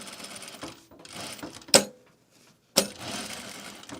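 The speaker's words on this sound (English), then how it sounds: "I'm going to top stitch around the perimeter now" A sewing machine top stitches around a wool garment duffle bag, running in short whirring bursts broken by two sharp clunks and a brief pause, close and moderately loud.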